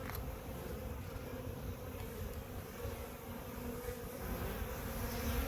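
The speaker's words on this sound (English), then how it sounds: "those bees will cluster around the brood frames to help keep them warm at night" Honey bees buzzing around brood frames of a nuc box during installation, a continuous dense hum of many insects, close and steady, with no voices.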